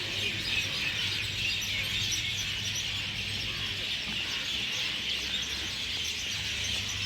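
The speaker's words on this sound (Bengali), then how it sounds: "সল্টলেকের এই জায়গাটায় এত পাখির ডাক," Birds chirp at dusk in Salt Lake, Kolkata, a dense, faint-to-moderate twittering chorus that fills the background steadily without talk.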